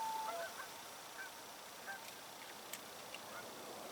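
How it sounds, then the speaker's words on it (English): Geese honk out over a lake on an August night near a cabin, a few short distant calls scattered across a quiet background. "there's a lot of action tonight out there. The loons and the geese."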